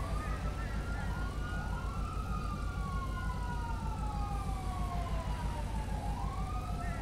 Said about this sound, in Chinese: 警车开过去了，好危险哦